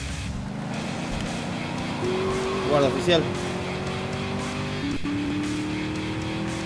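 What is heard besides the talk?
car engine and tire squeal in GTA Liberty City Stories video game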